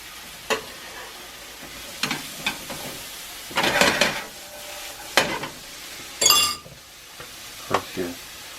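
Mushrooms and jalapenos cook in a pan for a cream sauce, giving a quiet sizzle with intermittent stirring scrapes and clinks against the pan, a louder burst of activity midway.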